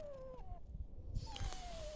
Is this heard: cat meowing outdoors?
yes